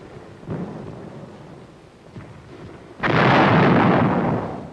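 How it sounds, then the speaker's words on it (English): A 105 millimeter howitzer fires in a combat setting, a loud deep boom that swells and rumbles for a couple of seconds over a low, noisy background with faint earlier thuds. "Meet my friend Joe, a 105 millimeter howitzer named Joe."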